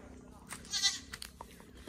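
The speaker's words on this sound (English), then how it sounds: "Hi, baby goat." A baby goat on a small farm gives one short bleat, quiet and close, amid faint background noise and a few soft knocks.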